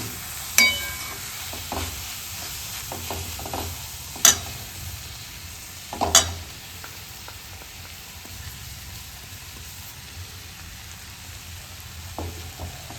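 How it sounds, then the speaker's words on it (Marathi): Peanut powder being stirred into a cluster bean curry, with a soft, steady sizzle under a few sharp spoon scrapes and clinks against the pan, fairly quiet and close. "शेंगदाण्याचं कूट तुम्हाला टाकायचं आहे आणि मिक्स करून घ्यायची आहे चांगली"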